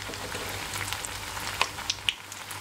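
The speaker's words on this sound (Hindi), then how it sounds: "बस इन्हें हल्का गोल्डन ब्राउन होने तक हम फ्राई करेंगे" Bread slices for shahi tukda frying in hot oil in a pan, a steady soft sizzle with occasional sharper pops and crackles, close and even, with no talking.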